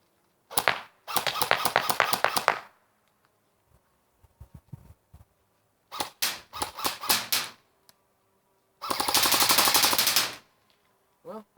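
Cyma AK-47 airsoft rifle with a D-Boys gearbox firing full-auto bursts, three long rattling strings of rapid shots separated by gaps with a few single clicks, close and loud with no talking.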